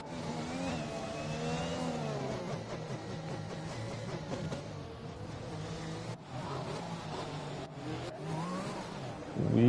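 Race car engines in an online racing video game at the Azerbaijan Grand Prix, several cars revving and droning with rising and falling pitch at moderate volume as they roll into their starting positions.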